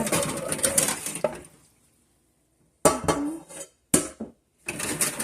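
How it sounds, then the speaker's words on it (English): Dishes are rinsed under a kitchen tap, with water splashing and dishes clinking in loud bursts separated by short silent gaps. "okay, I'm gonna rinse this one first."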